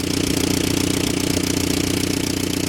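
A Willys Jeep engine running off its fuel pump idles with a steady, slightly uneven mechanical chug and light rattle, close and loud, with no voices.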